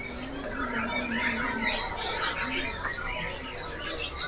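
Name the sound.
cucak cungkok songbird singing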